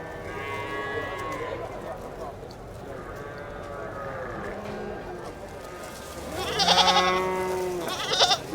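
Goats and cattle at an open-air livestock auction market in Oman bleat and low repeatedly, several overlapping calls rising loudest near the end, while people talk in the background.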